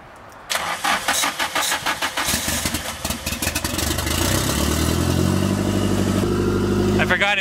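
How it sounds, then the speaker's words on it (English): Nissan 240 engine with an open downpipe cranks with a run of rapid starter pulses, then catches and settles into a loud, raspy, steady idle up close. "I think Dan's gonna start his 240 now"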